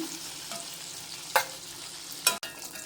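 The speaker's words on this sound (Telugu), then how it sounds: "వాటర్ అంతా ముక్కకి ఇంకిపోయేలా ఫ్రై చేసుకోవాలి రొయ్యలు ఫ్రై అయిపోయాయి" Prawns fry in a pan after turmeric is added and the water is cooked off, with a low sizzle, occasional stirring scrapes and two sharper clatters of a spoon against the pan.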